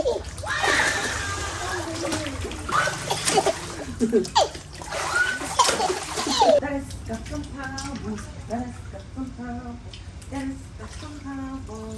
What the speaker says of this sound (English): Oh, that was such a cute, pleasant swim.